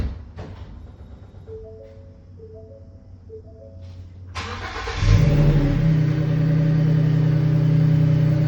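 A 2020 Ford Transit 350 XLT engine cranks and catches after a quiet stretch with faint tonal beeps, then settles into a loud, steady close-up idle with a strong low rumble.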